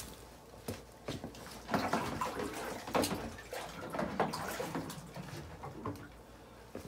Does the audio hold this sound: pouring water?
yes